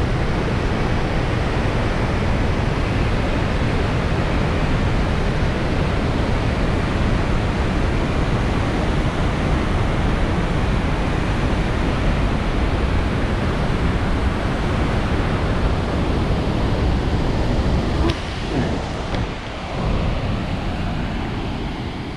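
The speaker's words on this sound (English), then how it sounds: "So we stopped to check out this waterfall" Waterfall in Romsdal, Norway, a loud, steady broadband roar of rushing water that fills the whole stretch without pause, dipping slightly near the end.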